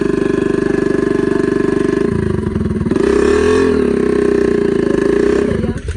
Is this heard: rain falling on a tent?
no